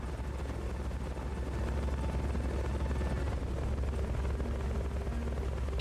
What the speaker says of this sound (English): I need that helo to move.